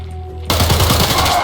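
Rapid automatic gunfire bursts out suddenly in a Roblox shooter game after a quiet moment and keeps going in a loud, dense rattle to the end.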